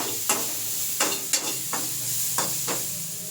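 Mustard seeds fry in a hot pan with a constant close hiss, punctuated by about six sharp pops or scrapes spaced unevenly across the stretch; no one speaks.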